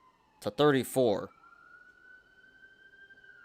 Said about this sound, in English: So, sorry about the sirens, guys.